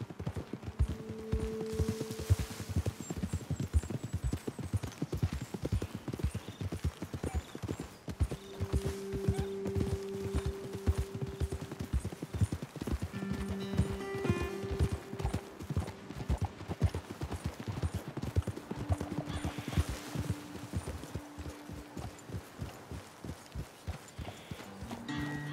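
Horses clip-clopping at a steady trot in Red Dead Redemption 2, dense hoofbeats running throughout with occasional snorts, close and continuous with no speech.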